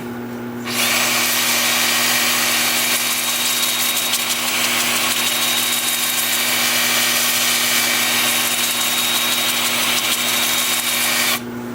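A wood lathe spins a turned piece forward at about 350, giving a steady, loud motor drone with a constant hum that starts abruptly and runs unbroken before cutting off at the end.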